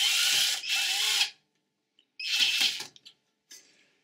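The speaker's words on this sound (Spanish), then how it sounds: "después con el destornillador lo terminamos de ajustar" A screwdriver tightens the hard drive screw inside an HP desktop PC with two close, buzzing motor bursts of about a second each, then a shorter final whirr, separated by brief silences.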